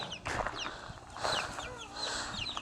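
Several chickens clucking and calling close by, a busy overlapping chorus of short squawks and clucks with no talking.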